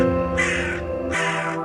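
A crow caws twice in a harsh, drawn-out call, with a short gap between the two calls. The bird is close and clear and carries the scene alone.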